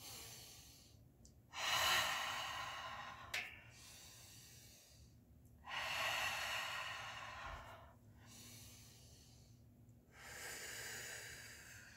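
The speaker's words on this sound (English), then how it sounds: "Breathing in on the way up." Deep breathing during big arm circle exercises: slow, audible breaths in and out, close and fairly quiet, recurring at a steady rhythm roughly every three to four seconds.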